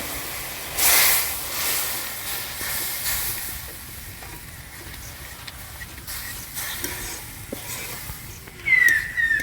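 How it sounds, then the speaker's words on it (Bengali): Dal for Jagannath-style mitha dali is poured over spices frying in a pan, bursting into a loud hissing sizzle at first that settles into a steady, softer sizzle with a brief flare near the end. "এবার আমি ডালটা মশলার উপরে ঢেলে দিলাম।"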